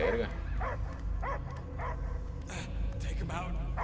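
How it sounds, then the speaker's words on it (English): A creature in the Guardians of the Galaxy video game barks and yips repeatedly in rhythmic bursts, mixed with game voices and a deep rumbling soundtrack underneath. "I hear only barking."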